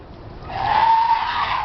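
A trained seal named Cléo gives a throaty, drawn-out vocal call on cue at an animal show, one sustained squealing tone that swells after a short pause and holds loud and close to the end.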